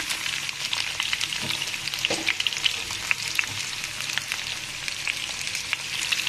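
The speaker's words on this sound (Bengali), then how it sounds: "যেন ভাজার মধ্যে পটল আলুটা একদম সিদ্ধ হয়ে যায়" Pointed gourd and potato sizzle steadily in a hot pan with light salt, a dense continuous crackle broken by small pops and an occasional stirring scrape, close and fairly loud with nobody talking.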